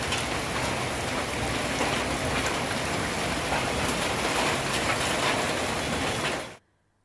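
Heavy rain pours down in a steady, dense hiss during a thunderstorm with strong winds in Thanjavur, continuous and unbroken before cutting off abruptly near the end.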